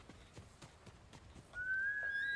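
A horse trots in the video game Ghost of Tsushima, with quiet, evenly spaced hoof clops, then a bright sustained whistle-like tone rises over a louder game backdrop near the end.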